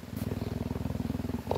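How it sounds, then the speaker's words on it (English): A cheetah purrs in a close, steady rhythmic rumble while being brushed, each breath pulsing in and out at an even pace, loud and near with no talk over it. "Oh, you can hear the purring."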